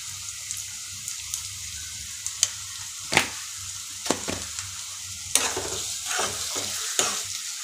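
Onions and tomatoes frying with salt in a pan for a raw prawn dish, a steady low sizzle with scattered stirring scrapes and clicks of a spoon against the pan, close and fairly quiet, no talking.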